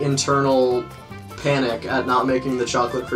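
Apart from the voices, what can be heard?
None of the usual background noises is heard.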